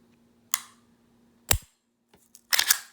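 Three distinct sharp clicks from the trigger of a Canik TP9 9mm pistol, spaced about a second apart, close and crisp over near silence, the last a quick double snap.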